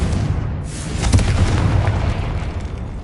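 A Confringo fire spell bursts in Hogwarts Legacy, a steady, loud rumbling boom with crackling blast noise lasting the full three seconds, swelling slightly near the middle.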